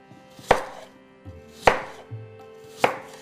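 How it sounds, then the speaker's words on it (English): Knife cutting apples into smaller slices on a cutting board for a galette, three crisp distinct chops with short pauses and soft thuds between them, close and clear. "Now I'm just going to make smaller slices."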